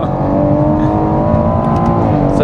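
A tuned Stage 2+ BMW M140i making about 500 bhp launches at a drag strip. The engine note is loud and steady and stays close for the whole short stretch, with harmonics that hold and then climb slightly as it pulls away.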